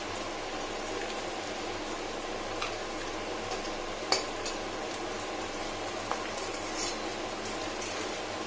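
Spices frying in hot oil for a Bengali mrigal fish jhol, a steady soft sizzle with a few faint sharp pops, quiet and close.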